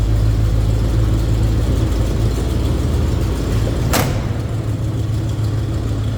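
A 1977 Chevrolet K5 Blazer Cheyenne 4x4 idles with a mild exhaust, a loud, steady low rumble heard close from the rear, with one brief sharp click partway through.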